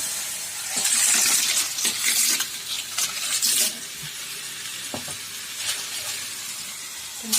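Clams (pensi) go into a pan to cook in the Bukittinggi style. Wet sizzling and gurgling come up near and loud, then a spatula scrapes and stirs with scattered clicks while the hiss settles into a steadier sizzle.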